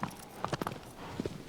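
Horse hooves in the video game Shadow of the Colossus, a quick run of muffled clip-clop beats with a short pause and then two more, close and moderately loud.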